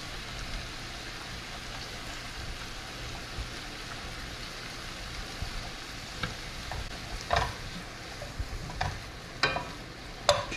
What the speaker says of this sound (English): Continue to saute the seafood for 10 minutes.